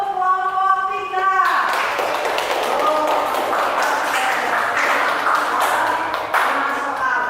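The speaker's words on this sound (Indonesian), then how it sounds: "Sekarang tepuk tangan untuk kelompok 3." A classroom group erupts in applause for a team of students during a civics teaching-practice lesson. Dense clapping starts after a voice and keeps going at a steady loudness, with chatter mixed underneath.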